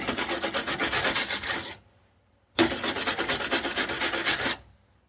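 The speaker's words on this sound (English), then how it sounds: "instructions said use a wire brush to remove rust and" A wire brush scrubs rust and paint off metal in two close, loud bursts of rapid rasping strokes, each about two seconds long, separated by a short pause.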